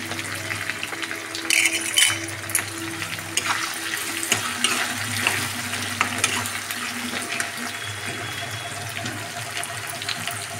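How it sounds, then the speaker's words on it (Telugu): Onions and green chillies sizzle in hot oil in a pan, a continuous crackling fry with occasional scrapes and clinks of a spoon stirring. "ఉల్లిపాయలను పచ్చిమిరకాయలు వేస్తున్నానండి"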